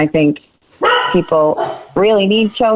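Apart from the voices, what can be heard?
dog barking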